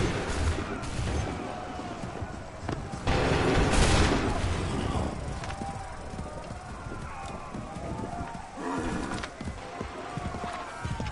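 A musket volley crackles out in an Assassin's Creed 3 Remastered battle, a dense broadband burst of gunfire with horses snorting and hooves clopping through a noisy, continuous battlefield din.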